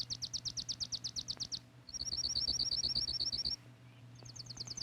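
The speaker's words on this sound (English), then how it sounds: "Here's a relative of the sparrow, a junco. Some people call it a snowbird." Bright, rapid trills and chip notes from a junco, a small gray sparrow relative, in winter; a fast repeated series, then a buzzier run and another brief burst, fairly clear over a low steady hum.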